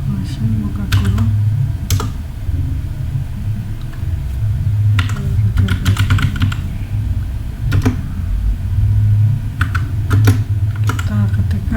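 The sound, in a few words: typing on a computer keyboard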